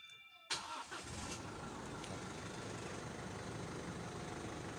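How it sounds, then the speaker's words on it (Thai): A remapped 2017 Isuzu D-Max with the 1.9 diesel engine cranks and fires after a brief quiet moment, then settles into a steady, even idle recorded up close, with no voices. "คันเร่งมันจะเร็วมาก ปกติ ถ้าของเดิมๆมันจะหน่วงหน่อยนะครับ"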